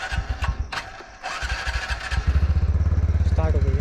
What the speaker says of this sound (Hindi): बाइक तो स्टार्ट हो गई